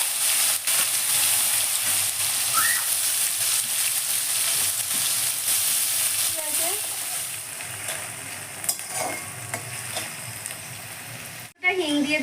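Chopped onion fries in oil with dried chilli, bay leaf, cumin and whole garam masala, a steady close hiss with occasional stirring clicks and a brief clatter near the end.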